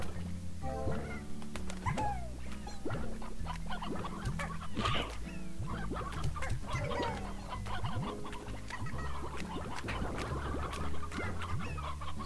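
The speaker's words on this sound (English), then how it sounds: "take these hen-hens that I've been launching in here" Hen-hens, the chicken creatures of the Slime Rancher video game, cluck repeatedly throughout, with busy layered animal chatter over steady game music.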